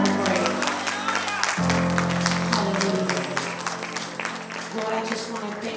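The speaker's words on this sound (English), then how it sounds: "Let's give God a hand clap of praise." A church congregation claps steadily and loudly throughout, with a sustained musical tone and a voice beneath the applause.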